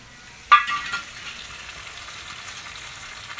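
Potatoes, cauliflower and peas dropped into hot oil in a pan for a Maharashtrian puri bhaji, giving a sudden close sizzle burst that settles into a steady, softer frying hiss with no talk.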